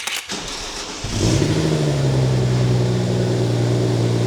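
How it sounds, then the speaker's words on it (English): A BMW 335i engine with the stock downpipe starts with a brief crank, then settles into a loud, steady idle with a deep rumble, close by. "let's go here how it sounds before the downpipe and how it's gonna sound after"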